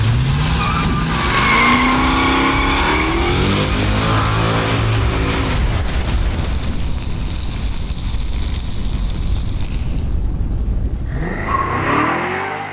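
Ford Mustangs race and skid, tires squealing loudly while engines roar and rev, the noise shifting from rising engine pitch into sustained rough tire scrub before a final revving pass.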